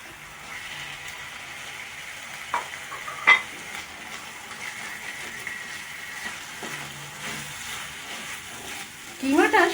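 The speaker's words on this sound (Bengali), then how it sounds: "এরপর আমি এর মধ্যে কিমাটা মিশিয়ে দেব।" Minced meat being stirred into soy sauce in a frying pan, a soft low sizzle with a few sharp utensil clinks and scrapes, louder clattering at the end.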